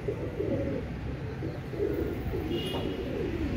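Heera Laal pigeons, a prized breed, coo in low, repeated rolling murmurs close by, layered together into a steady soft throb with faint background hiss.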